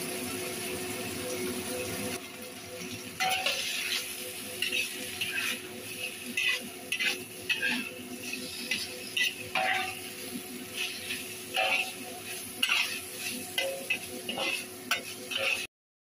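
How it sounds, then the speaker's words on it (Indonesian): Chicken pieces stir-fried in a pan until lightly browned, a steady sizzle broken by repeated scraping and clattering strokes of a spatula, close and fairly loud throughout. "Ini aku masukkan dulu ayamnya. Ini aku tongseng sampai agak kecoklatan kuning gitu ya teman-teman."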